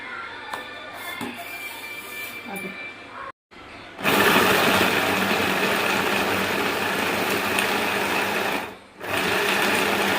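A mixer grinder runs loudly, grinding ridge gourd chutney ingredients into a paste. Its high, droning whir starts after a brief quiet stretch, pauses once, then resumes. Quieter handling sounds come before it.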